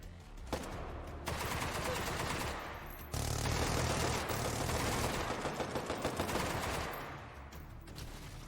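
Sustained rapid enemy gunfire in a video game rattles almost without pause, loud and dense, with a brief break near the middle before the barrage resumes.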